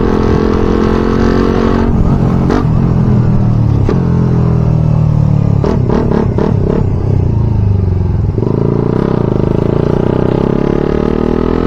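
Motorcycle riding noise picked up by a Gearelec C2 helmet intercom mic, loud continuous engine drone buried under heavy roaring wind buffeting, with engine pitch shifting and brief gear-change dips throughout.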